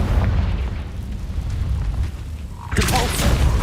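A Confringo fire spell in the game Hogwarts Legacy: a deep, rumbling boom fills most of the moment, then a sharper fiery burst with crackle erupts near the end, loud and close.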